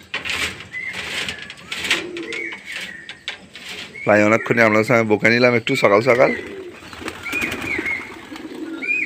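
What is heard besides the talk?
pigeons cooing as they are released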